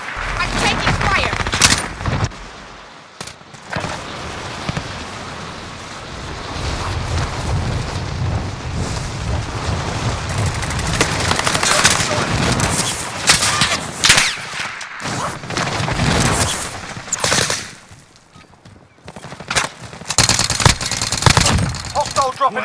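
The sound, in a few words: gunfire in the video game Warzone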